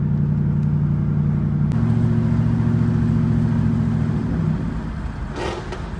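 A car engine and exhaust rev hard up close, a loud droning rumble that climbs in pitch and then eases off toward the end, with a brief hiss near the finish.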